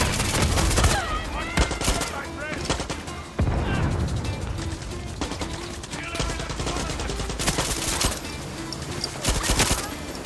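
Loud bursts of rapid automatic gunfire in the video game Far Cry 6, sharp cracks and rattling volleys across the whole stretch, with a voice speaking between shots.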